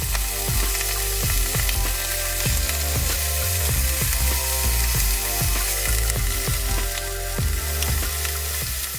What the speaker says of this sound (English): Then gently place the steak down while it's super hot and let it sizzle on both sides